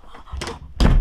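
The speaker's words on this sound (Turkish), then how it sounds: "biri kapıyı zorluyor Ela." A door is forced and shoved from outside while someone holds it shut, giving two quick heavy thumps and rattles close by, the second louder.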